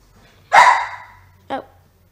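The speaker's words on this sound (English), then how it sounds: "sorry about the dog." A dog barks indoors, one loud, sharp bark close by, followed a second later by a shorter, softer one.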